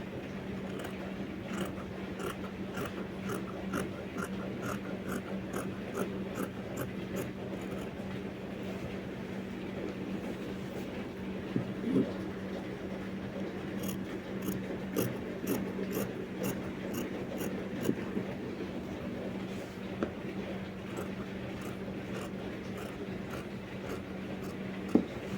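Fabric being cut for a shirt dress, heard as a steady, soft rasping of blades through cloth over a constant low hum, with faint, evenly spaced clicks repeating throughout.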